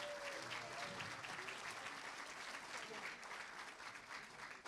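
Sustained applause from a dinner audience honoring the Rose Court queen and her court, steady and full throughout, with faint voices mixed underneath.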